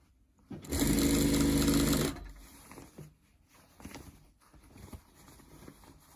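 A sewing machine runs a short continuous burst stitching a centimetre-wide edge seam across the back of a fabric scrub hat, loud and steady for about a second and a half, then stops, leaving faint handling noises.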